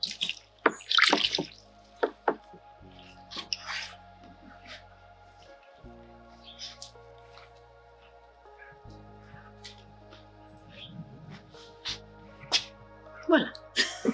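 A cyanotype print is rinsed in clean water, with scattered drips and splashes trickling and plinking at close range in an otherwise quiet space, interrupted by brief soft bursts.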